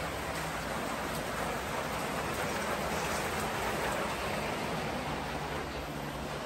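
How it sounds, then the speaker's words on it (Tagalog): Heavy rain pours down steadily at home, a dense, even hiss of water hitting surfaces that stays loud and unbroken throughout, with no voices. "tsaka bumuhos yung malakas na ulan"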